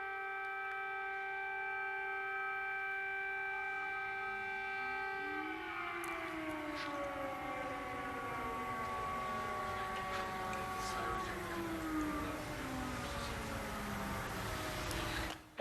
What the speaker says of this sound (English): There's the sirens again.